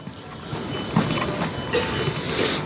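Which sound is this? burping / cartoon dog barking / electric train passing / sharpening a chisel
electric train passing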